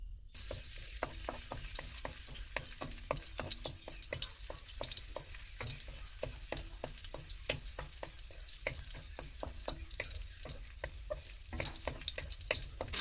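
Garlic frying in a pan, with steady sizzling crackle and repeated stirring scrapes in a quick, even rhythm throughout, close and fairly loud.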